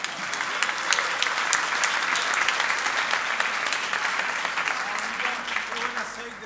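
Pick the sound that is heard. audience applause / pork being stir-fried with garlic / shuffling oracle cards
audience applause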